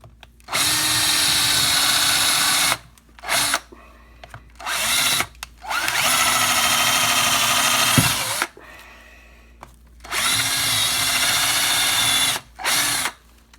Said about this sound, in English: we're gonna drill 4 holes into this, just try to get more airflow